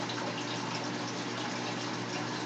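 Water vortexes and gushes steadily in an aquarium sump, a continuous, even rushing and splashing wash with no pauses or voices.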